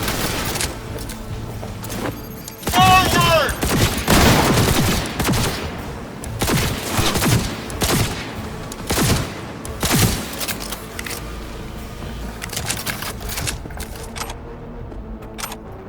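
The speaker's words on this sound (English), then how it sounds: "I'm taking fire!" Chaotic firefight in Cyberpunk 2077, with irregular bursts of gunshots and heavy thuds, loud and near, continuing through the whole stretch with no talk.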